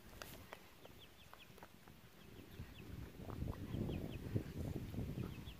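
Chickens cluck and chirp softly nearby amid scratching and rustling, with a few short high calls scattered through and the busy shuffling growing louder later.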